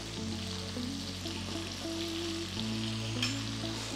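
Spring chicken pieces fry in oil for Kethel's chicken fry, a steady close sizzle that runs throughout with faint tonal hums in the background.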